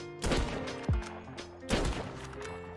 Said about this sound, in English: Hit him with 3 shots.